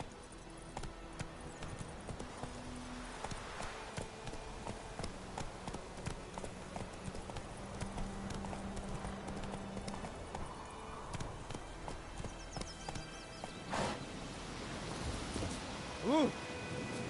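Horse hooves clip-clop steadily during riding in The Witcher 3 video game, a moderate rhythmic patter under background game music and ambience, with a brief voice near the end.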